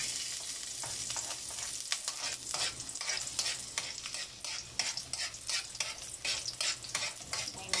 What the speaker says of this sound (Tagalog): Medyo mainit na yan kasi dati nang mainit yung kawali. So, ilagay na natin yung sibuyas.